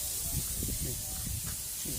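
A 2-liter handheld foam sprayer hisses steadily as car wash foam is sprayed across a car at home, a constant close breathy spray.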